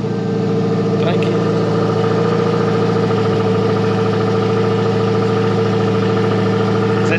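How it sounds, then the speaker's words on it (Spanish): A car engine idles steadily just after being started, a low continuous hum with a mild mid-range rumble, close and fairly loud throughout with no voices over it. "Y yo creo que es el coche que menos suena cuando lo prendo"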